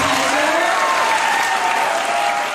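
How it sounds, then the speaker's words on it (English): Audience at a Stanford speech and Q&A event applauding steadily, a dense, close wash of clapping that fills the room for a few seconds, with faint voices mixed underneath. "everyone give a round of applause for Hasan."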